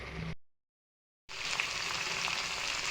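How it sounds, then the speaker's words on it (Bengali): Spices frying in oil for a hilsa fish curry, a close steady crackling sizzle that cuts out briefly to silence, then returns continuous and bright; no voices. "মশলাগুলো ভাজা ভাজা হয়ে গেছে, দেখতেই পাচ্ছ তেল বের হয়ে আসছে"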